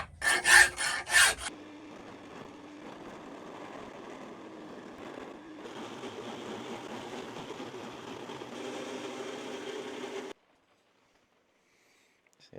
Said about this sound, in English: First thing I want to do is file all the teeth away. Let's take it to the milling machine.